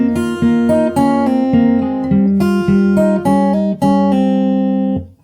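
Fingerstyle acoustic guitar plays a song melody over bass notes, bright plucked notes ringing clearly and alone for about five seconds before stopping.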